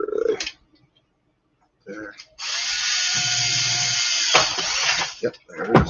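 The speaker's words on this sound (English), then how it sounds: "So I'm gonna drill hole for that." An electric drill bores a hole during a Bruder crane truck model conversion, a steady high whine lasting a few seconds after short clicks and handling noises, close and loud.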